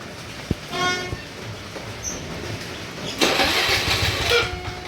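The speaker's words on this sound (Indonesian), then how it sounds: "Coba kita lakukan starter." A carbureted Honda Vario scooter with an unstable idle is started: a short starter whir, a pause, then the engine catches with a rough, roaring burst that settles, close and fairly loud.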